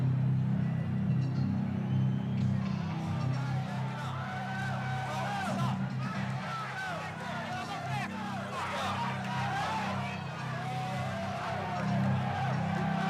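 A deafening arena crowd roars continuously as heavyweight champion Mike Tyson enters for his bout with Michael Spinks, a dense, sustained wall of cheering with a steady low rumble.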